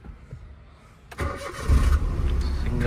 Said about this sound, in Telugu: సింగిల్ సెల్ఫ్లో స్టార్ట్ అవుతుంది కారు